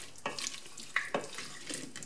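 Potatoes being stirred in a soup pot for clam chowder, giving a few soft, scattered scraping and sloshing strokes, quiet and close, with no talk.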